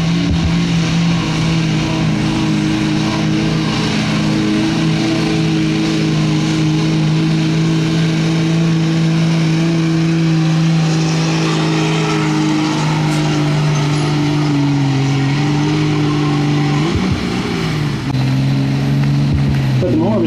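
A Dodge pickup truck revs its engine hard at a benefit truck pull, a loud, steady low drone that pitches up and down near the end, with crowd and announcer noise in the background.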